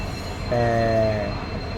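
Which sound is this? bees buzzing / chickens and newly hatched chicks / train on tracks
train on tracks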